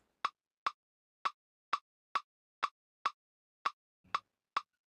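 Ten sharp, dry percussive hits in an even rhythm with brief gaps, each a crisp wooden snap like a snare-style accent, played alone without talk, an Afrobeat snare rhythm programmed in FL Studio.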